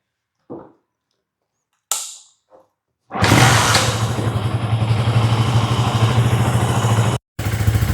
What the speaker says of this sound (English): let me fire it up for you